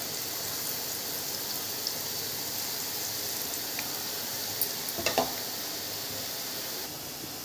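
Boondi drops of batter fry in hot oil on a full flame, giving a steady, dense hiss like rain with a few brief crackles, close and unbroken with no talk.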